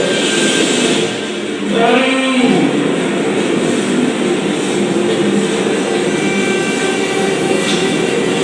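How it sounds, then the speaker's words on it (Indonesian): An airplane flies overhead ahead of a nuclear bomb drop, heard as a loud, steady broadband roar that dips briefly near the start and then holds evenly to the end, with no voices. "Nah, ini pesawat ya. Pesawat menjatuhkan bom nuklir."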